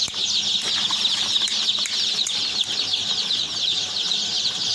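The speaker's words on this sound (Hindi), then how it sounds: "healthy active चूज़ा ji" A crowd of day-old Lohmann Brown chicks at a poultry hatchery fills the air with a dense, continuous chorus of high, overlapping peeps, loud and close throughout.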